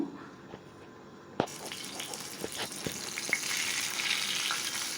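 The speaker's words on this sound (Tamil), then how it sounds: "இப்போ 1 பை 1 போட்டு பொரிச்சு எடுத்துக்கலாம்." Fish fried in a small amount of oil, dropped in one piece at a time. A sudden loud sizzle starts partway through and keeps hissing and crackling steadily, close by and alone.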